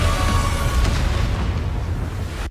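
A loud, sustained rumbling roar from an explosion in a Genshin Impact game trailer, dense and heavy for over two seconds before cutting off abruptly.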